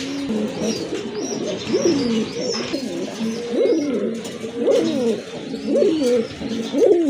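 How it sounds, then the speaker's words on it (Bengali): A pair of lively pigeons, including Jharna satin pigeons, coo in close, repeated rolling phrases at a large pigeon farm, with faint chirps in the background. "খুবই অ্যাক্টিভ এক জোড়া কবুতর"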